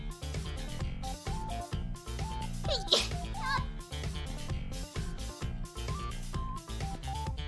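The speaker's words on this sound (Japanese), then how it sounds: "あ、待って、くしゃみ。" A single quick sneeze from a female streamer, a short sharp burst over steady background music during a live stream.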